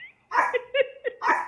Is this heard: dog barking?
yes